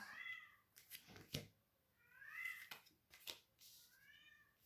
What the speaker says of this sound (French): si vous entendez, c'est mon chat derrière.